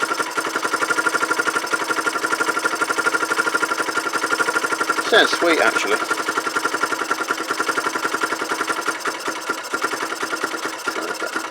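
A Kawasaki BN125 Eliminator motorcycle engine, not fully warmed up, barely idles with a fast, even putter, close by, while someone briefly speaks over it partway through.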